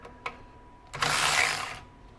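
An EastVolt 12V cordless 3/8-inch ratchet whirs in a short burst of about a second, close and fairly loud, after a couple of brief mechanical clicks.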